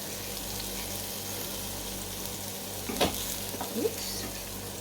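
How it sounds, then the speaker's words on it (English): Vegetables sauté in butter in a pan with a steady, close sizzle. Brief scraping stir sounds rise over the frying now and then. "So I'm going to give them a little stir around, and whilst they are sauteing"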